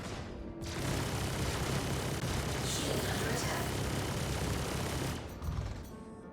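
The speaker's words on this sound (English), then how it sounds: "I'll definitely shoot guns at you" Spaceship guns in Star Citizen, fired from a Freelancer MAX or MIS at an enemy ship, make a dense, continuous rattling barrage that swells up after a quiet start, holds for several seconds, then eases off.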